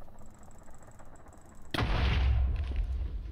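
TNT exploding in Minecraft: after a quiet stretch, a sudden loud blast hits, followed by a heavy, rumbling low boom that lingers and slowly fades.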